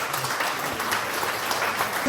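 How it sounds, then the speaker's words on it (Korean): An audience gives steady, moderately loud applause at a hometown legislative report meeting, with dense continuous clapping and a faint voice underneath. "큰 박수 보내주십시오."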